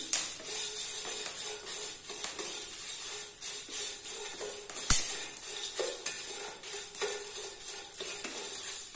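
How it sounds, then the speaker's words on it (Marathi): Whole spices dry-roast in a pan for Malvani chicken curry, a soft sizzle under repeated scraping and clinking of a spatula against metal, with one sharp knock midway and no talking. "तर हे व्यवस्थित भाजून घेते मी"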